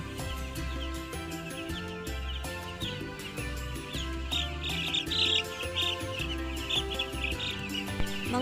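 Many young chicks peep and chirp continuously in a brooder at a small farm, a dense, high, steady chorus of overlapping calls with a low hum underneath.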